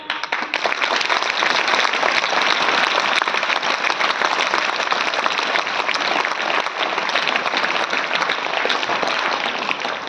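A school audience applauds in a dense, steady wash of clapping, loud and continuous from start to finish with no voices breaking through.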